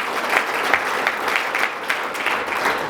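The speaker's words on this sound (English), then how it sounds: "give him a round of applause" Sustained audience applause at a conference, dense steady clapping from a crowd with small swells, fairly close and alone without talk.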